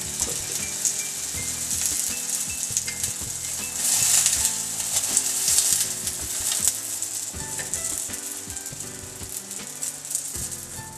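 A plain paratha brushed with oil and frying in a pan: a continuous bright sizzle that swells louder midway, over intermittent low tapping and rattling of the pan, close and steady throughout, with no talking.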